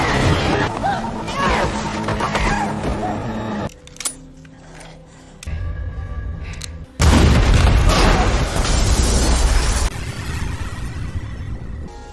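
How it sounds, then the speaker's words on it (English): A film explosion bursts loudly with a heavy boom and crashing debris, amid dense action sound effects and a spoken voice, with a brief lull before the blast hits. "suddenly, an explosion occurs"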